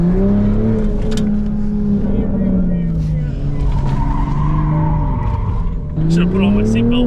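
A car drifts in circles with tires squealing loudly and the engine revving and rising in pitch, a continuous close screech with surging engine tones, while people talk over it.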